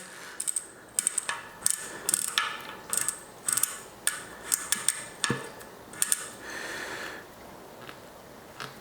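Close, crisp ratchet clicking from the freehub of a Vision Team 35 Comp wheel with a sheared freehub, heard in short uneven bursts as the wheel is spun, with no talking.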